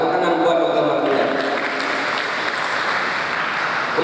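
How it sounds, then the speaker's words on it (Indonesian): Sustained applause from an audience at the opening ceremony of a Quran competition, dense and loud throughout, with faint voices mixed in the crowd. "Tepuk tangan buat Dr. Madrian."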